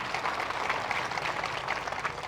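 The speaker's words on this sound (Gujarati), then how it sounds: "આનાથી વધારે જબરદસ્ત તાળીઓનો આવકાર થઈ જાય" A crowd at a political rally claps, making a dense, continuous burst of applause that carries on unbroken for the whole short stretch.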